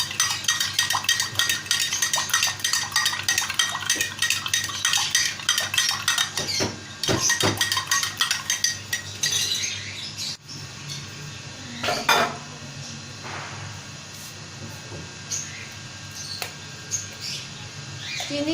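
A spoon clinks against a glass while stirring sugar into a drink for an iftar recipe, with rapid light taps and scrapes in the first half that thin into scattered clinks.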